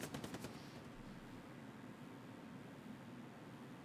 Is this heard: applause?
no